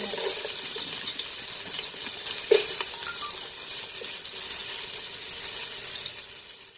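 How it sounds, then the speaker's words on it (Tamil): Sliced onion fries in oil for fish biryani with a steady soft sizzle and bubbling, broken by one brief clink of a utensil, fairly quiet and close with no speech. "ஒரு வெங்காயம், அதை நம்ம வந்து ஃப்ரை பண்ணி"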